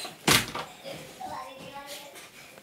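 A door thumps shut in a school room, one sharp close slam near the start, followed by a quiet room with faint voices murmuring.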